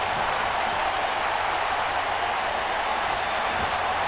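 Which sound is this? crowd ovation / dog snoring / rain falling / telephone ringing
crowd ovation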